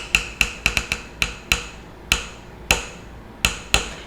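Sharp tapping on a hard surface in a home kitchen, about a dozen crisp knocks in an uneven rhythm: quick clusters, then sparser hits with short pauses, close and fairly loud with no talk.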